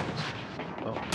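Gunshots from the Gears 5 video game in free-for-all play, several loud bursty blasts in quick succession across a short stretch, with a sharper crack near the end.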